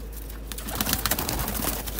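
Pigeons coo close by, a string of soft throaty calls repeating over a steady low background hum.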